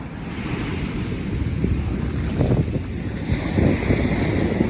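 Ocean surf rolls steadily onto the shore at Anastasia State Park beach, St. Augustine, Florida, a continuous wash of waves mixed with gusty wind noise.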